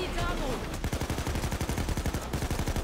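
Rapid automatic gunfire in the video game Payday 2 during a jewelry store heist with the Bulletstorm perk active, a steady stream of evenly spaced loud shots after a brief lead-in.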